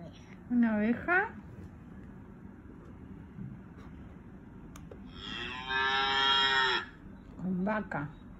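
Cow moos from an animal sounds memory game play in several bursts, one long drawn-out moo in the middle and shorter ones before and after, with people speaking quietly in between.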